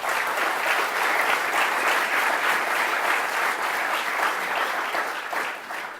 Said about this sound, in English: mandatory applause.